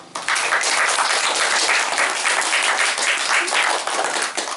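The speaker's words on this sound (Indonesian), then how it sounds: "kasih tepuk tangan untuk senior Anda" Dense, steady applause from a crowd honoring seniors at a study gathering, loud and sustained throughout with no break.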